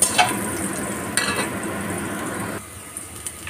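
Garlic sautéing in oil in a pan, with a steady close broadband sizzle and a few scraping stir clicks, a brief flare midway and the sizzle dropping a little toward the end.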